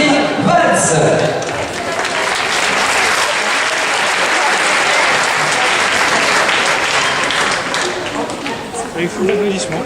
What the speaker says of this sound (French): Je demande de l'applaudir bien fort son One Man Show